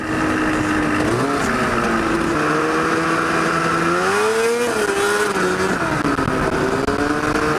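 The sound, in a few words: snowmobile-engine go-kart driving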